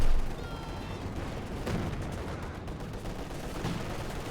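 Heavy gunfire erupts in a Company of Heroes 2 World War II strategy battle: dense, overlapping shots and explosions form a steady, rumbling barrage at moderate volume.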